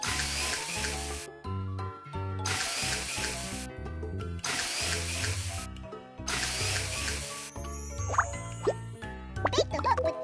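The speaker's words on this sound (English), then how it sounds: "Let's drill holes on the ice and start fishing." In the video game Baby Panda Fishing, a cartoon drill bores holes in ice in four evenly spaced bursts of bright, buzzing noise over bouncy background music, then come a few plinks and pops.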